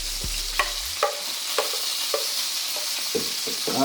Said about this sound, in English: now we're going back into the skillet to fry them up a second time